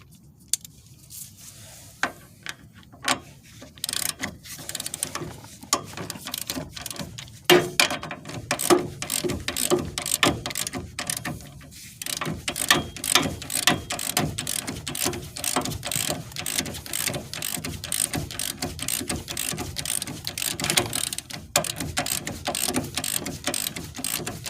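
A ratchet wrench works an 18 mm brake caliper bolt on a Chevy Cobalt Sport, giving rapid metallic clicking in bursts that speed into a dense steady ratcheting run, close and fairly loud, with no talk.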